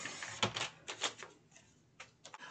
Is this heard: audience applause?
no